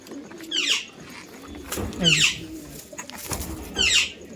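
Giribaz pigeons coo close by, three distinct rolling calls spaced about every one and a half seconds against a quiet background.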